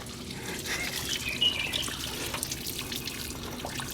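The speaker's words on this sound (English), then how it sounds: "So we are topping it by plain water" Plain tap water pours steadily into a car's cooling system, a continuous close trickle and splash with a brief gurgle partway through.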